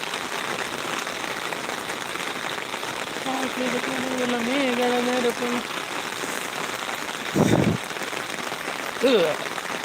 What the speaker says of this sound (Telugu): తిరుపతిలో చూడండి ఫ్రెండ్స్ కుండపోత వర్షం